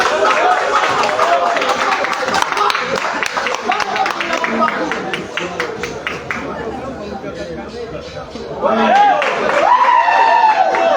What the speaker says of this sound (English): His fans are even cheering the choking and table inspection.